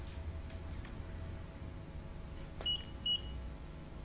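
Two short electronic beeps from an e-toll card reader built on an IoT setup as a card is tapped, the second a little longer, sounding over a steady low hum of background noise.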